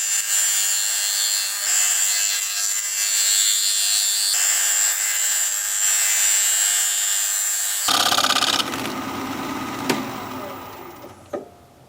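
A wood lathe spins with a steady high whine while a turner works a wooden bowl, then a scraper bites in and the sound turns rougher and grittier before fading in the last seconds.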